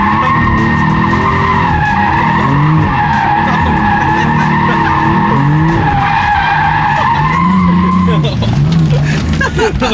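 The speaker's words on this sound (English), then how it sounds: "Maybe we'll do some donuts or something." A BMW F80 M3 spinning donuts produces a loud, sustained tire squeal with wavering pitch over a roaring engine, skidding almost continuously throughout.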